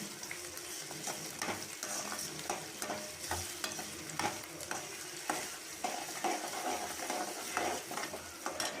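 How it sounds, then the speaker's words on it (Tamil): Onion and chopped ingredients sautéed with salt in a hot pan for a Tamil mandi kuzhambu, with steady sizzling and repeated scraping strokes of a spatula, close and fairly loud, and no talk. "நல்லா வதக்கிட்டு உப்பு கொஞ்சம் சேர்த்து வதக்கணும்."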